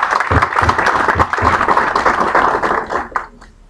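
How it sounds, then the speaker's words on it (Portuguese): Applause at a public hearing on a hospital, a dense burst of many hands clapping close and loud with a few sharper claps standing out, thinning and fading near the end. "uma salva de palmas"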